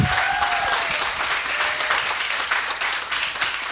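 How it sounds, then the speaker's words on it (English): Sustained applause from an audience at a regional artist's talk, a dense steady wash of many hands clapping that holds at an even level for several seconds, with a faint tonal whistle near the start. "One more round of applause,"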